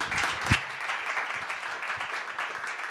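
An audience applauds at a live onstage interview event, a dense, steady wash of clapping that holds at an even level throughout, with one sharper burst near the start.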